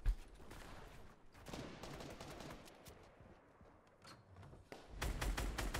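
LMG in Fortnite firing steady rapid bursts at close range, easing off briefly midway before a louder, heavier burst of shots closes it out.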